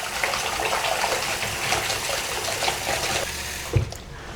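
White laundry, including towels, is hand washed in warm water mixed with Tide detergent and OxiClean. Steady sloshing and swishing of water is heard up close, ending with a soft thump, and no one talks.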